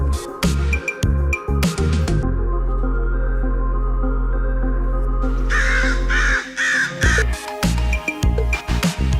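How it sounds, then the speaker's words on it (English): A crow caws repeatedly, loud harsh calls coming in irregular clusters close to the listener, with no speech. "Crow bird."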